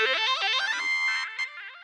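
Bright Ableton Live synth melody climbing in quick stepped notes to a high, buzzy, distorted tone, ending with a short sharp click.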